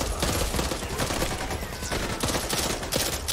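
Sustained machine gun fire from Back 4 Blood, dense rapid bursts of shots filling the scene, loud and continuous with only a little talk.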